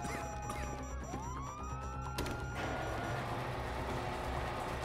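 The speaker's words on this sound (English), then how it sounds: "You hear that? Sirens!" Rising and falling police sirens wail through a chaotic scene in GTA 5's prologue mission, with a crash and clattering impacts mixed in.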